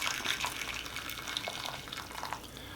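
Boiled water is poured steadily into a glass dish, a continuous close splashing and trickling pour that holds even throughout, with no voices.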